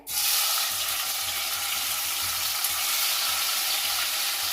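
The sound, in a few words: tomatoes frying in oil in a pan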